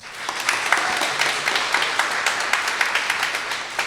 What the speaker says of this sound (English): let's give a round of applause to our performers